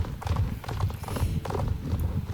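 Horse hooves clip-clopping in a video game's bazaar, a steady run of close, even hoofbeats throughout with a faint whinny-like touch and no speech.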